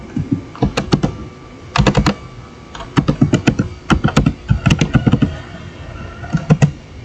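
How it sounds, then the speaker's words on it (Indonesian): Computer keyboard typing of a network switch command: bursts of crisp, close keystroke clicks in irregular clusters with short gaps. "Lalu kita ketikkan perintah show"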